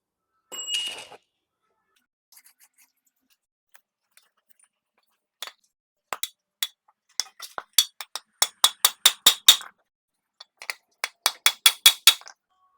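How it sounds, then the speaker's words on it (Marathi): Hammering new liners onto a worn truck brake plate in a workshop: sharp metallic knocks, a few scattered taps then rapid steady runs of close, bright strikes with short gaps. "एकीकडे लायनर ठोकण्याचं काम चालू आहे"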